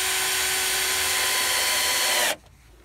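A power drill drives screws into chestnut wood for a chicken coop built from recycled materials, with a loud continuous whine that cuts off abruptly near the end, leaving quiet.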